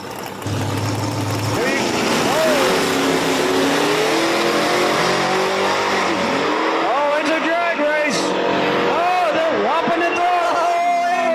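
Race cars at an outlaw small-tire drag racing event at Virginia Motorsports Park run side by side, loud engine roar and rising revs with tire squeal, under a commentator's voice and crowd noise.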